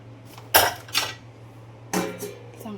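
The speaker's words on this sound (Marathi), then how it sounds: "चांगलं हलवून घ्यायचं" Cooked mutton keema stirred in a metal pot, giving a few sharp scraping clanks of a spoon against the pot, two close together then another pair after a pause, with a steady low hum underneath.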